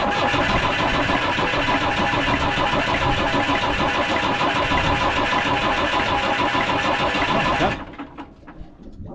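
A digger's diesel engine fires up and runs loud and steady with the throttle set flat out, a dense continuous roar that cuts off abruptly near the end, leaving faint rattles.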